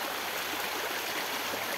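Forest stream water flowing steadily, a continuous broadband rush and gurgle heard close and alone for the whole stretch.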